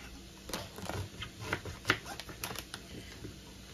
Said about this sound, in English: Depending on the size of the Brussels sprout, like this one is bigger, I probably can cut this into fours.